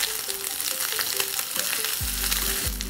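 Rice fries and is stirred in a pan, with a loud, close, continuous sizzle and repeated scraping strokes of a utensil against the pan.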